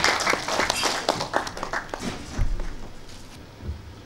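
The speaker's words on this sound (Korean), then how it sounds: "큰 박수로 축하해 주시기 바랍니다" Applause from an audience at a Korean literary society's book launch and award ceremony, a steady patter of many hands clapping at moderate loudness, with a few louder thumps partway through.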